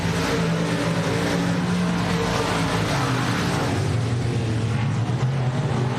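Race cars circling the track single file during a heat race at Texana Raceway Park, a loud, continuous engine drone with layered revving that rises and falls as cars pass, with no voices.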